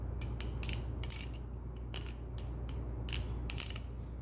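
A Kershaw Lucha balisong butterfly knife on ball bearings is flipped, giving a quick series of sharp metallic clicks and clacks in irregular bursts, close and fairly crisp over a quiet background.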